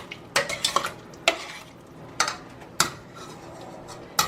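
Diced potatoes are stirred in a pot of corn chowder, with close utensil scrapes and clinks against the pot arriving in irregular bursts over a soft bubbling background.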